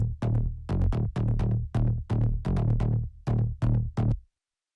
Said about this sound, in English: I built a bass line around that, and the bass line sounds like this.